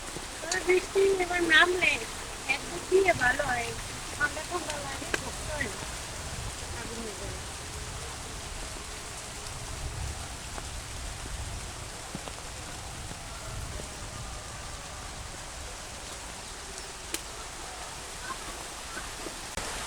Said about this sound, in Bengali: বৃষ্টি অলরেডি হইতে আছে